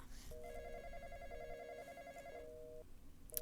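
A phone ringing in a Roblox game, a faint electronic ringtone of stacked pulsing tones that repeats a few times over quiet background noise, then stops.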